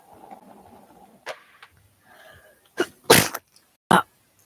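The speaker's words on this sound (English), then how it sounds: "Oh, I just sneezed." A single sharp sneeze bursts out loudly and close, followed by a couple of quick breathy sounds, after some quiet background noise.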